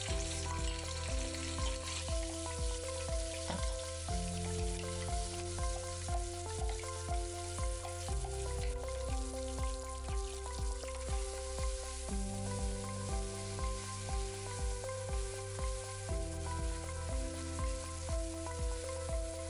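Onions frying in a pan for a vegetarian nargisi kofta gravy give a steady sizzle and hiss, largely buried under rhythmic background music throughout.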